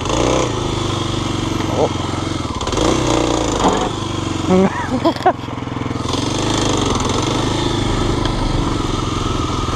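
A dual sport motorcycle revs hard during a tire burnout, its engine snarling and rising in uneven bursts, loud and close, with a brief spoken exclamation mid-way.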